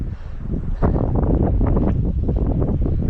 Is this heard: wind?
yes